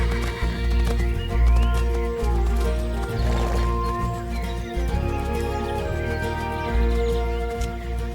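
Swiss Freiberger (Franche-Montagne) horses move and snort outdoors, with irregular hoof clops and a possible whinny over a steady low rumble and music-like tones, birds chirping faintly in the background.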